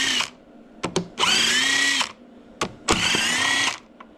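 A power tool whirs in two sustained bursts while removing bolts from the top of a Massey Ferguson 2675 tractor near the radiator, with short clicks and knocks between runs, close and loud.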